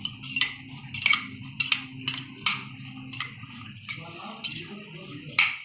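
Raw mango pieces are stirred with powdered sugar in a bowl, with a spoon clinking and scraping in repeated short strokes, close and fairly quiet.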